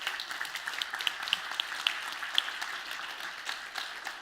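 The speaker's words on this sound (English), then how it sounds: "First of all, a big applause." An audience at a startup founder talk bursts into applause, a dense, moderately distant patter of many clapping hands that continues steadily throughout, no talk over it.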